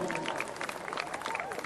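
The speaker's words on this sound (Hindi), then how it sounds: "मधुर जी के लिए जोरदार तालियां गाइस।" A crowd at the Dada Saheb Phalke Film Awards applauds Madhur Bhandarkar. Brisk, steady clapping from many hands sits fairly far back at a modest level, and voices talk through it.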